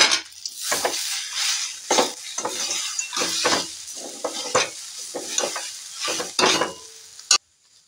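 Peanuts and vegetables for a carrot veg chop filling are stirred in a frying pan, giving close, rhythmic scraping strokes over a steady sizzle, ending abruptly.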